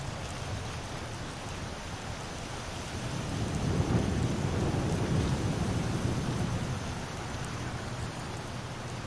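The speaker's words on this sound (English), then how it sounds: "Is the rain lightened up yet?" Rain and a thunderstorm in the video game Skyrim: steady heavy rainfall hisses throughout while low thunder rumbles and swells near the middle, with no voices.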